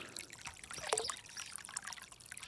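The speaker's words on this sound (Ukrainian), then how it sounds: "Дивіться, вже дві хвилини тече вода і ще а, гаряче" Hot water running from a tap, a soft continuous trickle and splash, faint and close, with no voices.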